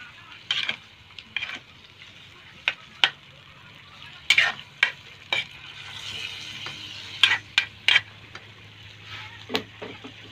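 A spoon stirs and taps in a pan of frying chicken adobo with potatoes, soft sizzle underneath and sharp clinks of metal scattered irregularly, close and fairly quiet with no talk.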